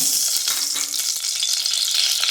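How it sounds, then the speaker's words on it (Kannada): Steady, crackling sizzle of mustard seeds frying in hot oil in a pressure cooker, close and continuous with scattered faint pops and no voices. "ಎಣ್ಣೆ ಹಾಕಿದ್ದೀನಿ, ಸ್ವಲ್ಪ ಸಾಸಿವೆ, 1 ಸ್ಪೂನ್ ಜೀರಿಗೆ"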